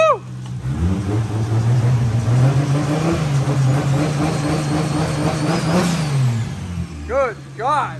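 A Toyota 1.5JZ engine fitted with a turnout exhaust revs loudly through its first start, holding a sustained rising and falling drone before a couple of sharp blips at the end, with excited voices talking over it.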